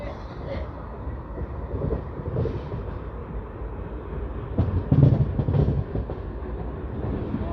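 An ALCO diesel locomotive stands with its engine running at the Ghaziabad shed, a steady low rumble under wind buffeting, with brief louder surges midway and faint voices in the background.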